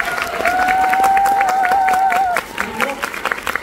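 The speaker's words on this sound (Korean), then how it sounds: "박수 한번 주세요." An audience applauds at the curtain call after the closing performance of the musical Via Air Mail. The clapping is dense and steady, with a held tone that wavers above it and then fades, and a voice is heard faintly.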